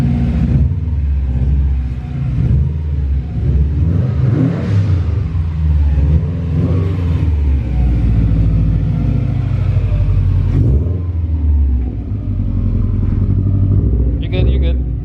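Lowered Subaru WRX on the move, its engine droning and revving steadily over road rumble from inside the car, loud and continuous with people talking over it.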